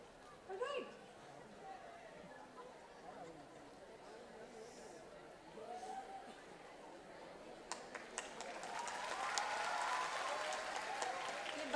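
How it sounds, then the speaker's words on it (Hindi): An audience at a children's school competition claps, with scattered applause early on swelling into loud, sustained clapping near the end, mixed with crowd chatter. "तो जोरदार तालियां जोरों से, सबको प्रोत्साहन मिलना चाहिए।"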